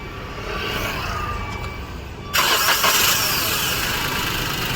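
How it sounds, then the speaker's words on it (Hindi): Maruti Suzuki WagonR engine with a misfire fault, fitted for CNG, cranks and catches, the steady hum jumping suddenly to a louder running roar midway and then settling into a rough idle nearby. "तो इंजन को स्टार्ट करता हूँ।"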